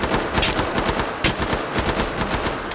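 Rapid automatic assault rifle fire from the commando loadout in the video game Killing Floor 2, a dense, loud stream of gunshots with steady rhythm and no speech over it.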